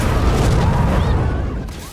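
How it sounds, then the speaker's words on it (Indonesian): A car blows up in a film scene, a loud booming explosion with rumbling debris that slowly fades. "Tapi saat Faraday akan memasuki mobil jemputan mereka, tanpa diduga mobil itu tiba-tiba meledak"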